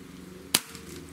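A Benjamin Marauder semi-automatic air rifle fires one sharp, loud crack that decays quickly against a quiet background.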